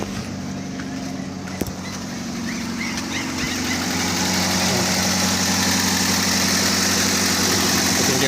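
A Toyota Vios engine, noisy when the gas pedal is applied, idles with a steady mechanical hum and rattle, growing gradually louder and fuller as it runs.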